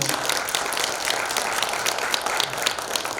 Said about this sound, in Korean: 이분들을 위하여 뜨거운 제가 격려의 박수 한번 부탁드리겠습니다